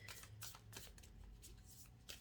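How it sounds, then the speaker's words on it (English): Tarot cards are shuffled close up in a series of quick riffling bursts, crisp papery flicks separated by short pauses. "I don't typically shuffle these on camera because they're very hard to shuffle"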